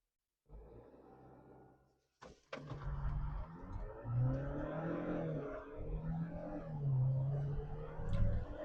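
Jeep Wrangler 4xe accelerating hard: a brief engine drone, a short gap and a sharp clunk, then a rising whirring roar with pitch sweeps that climbs and fades again near and fairly loud.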